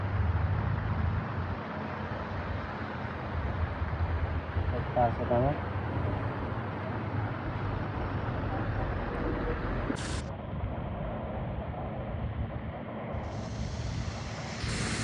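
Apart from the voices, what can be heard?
heavy rain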